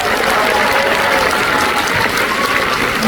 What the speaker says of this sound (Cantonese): 俾掌聲佢